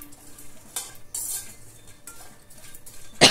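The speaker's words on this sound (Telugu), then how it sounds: "ఆయిల్ కూడా వేడైన తర్వాత పెసర వడియాలు వేసి కొంచెం వేపండి." Moong dal vadiyalu frying in hot oil in a pan: a soft steady sizzle under clinking and scraping of a metal spoon stirring against the pan, with a sharper clatter at the end.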